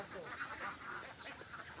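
Ducks quack inside a netted, tin-sided shed on a farm holding 360 ducks. The calls are moderately close, overlapping and steady.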